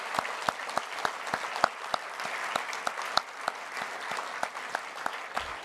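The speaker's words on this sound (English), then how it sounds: "Let's have a round of applause, please." Sparse applause from an audience at the EcoCAR EV Challenge Year 1 awards ceremony, with distinct individual claps spaced across the room rather than a dense roar, steady and moderately loud throughout.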